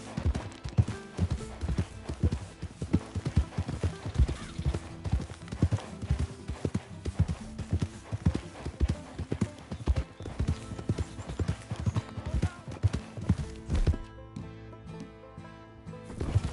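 A donkey's hooves clip-clop in Red Dead Redemption 2, a steady, fairly close patter of hoofbeats that runs throughout. A few scattered sounds surface near the end.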